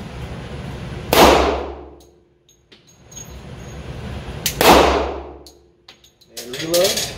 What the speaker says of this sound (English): So we are just gonna shoot these and see how much recoil difference there is